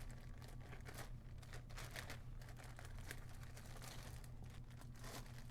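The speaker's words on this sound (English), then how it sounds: "I grab my plastic bag" A Great Value plastic bag is handled and rolled, giving faint, repeated crinkles and crackles at close range over a low background hum, with no speech.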